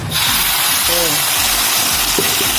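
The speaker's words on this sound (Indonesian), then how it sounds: "Saya akan tumis bumbunya." Ground spice paste hits hot oil in a home kitchen while preparing chicken-feet and jengkol stew, producing a loud, steady broadband sizzle that continues without break, with brief faint voice traces underneath.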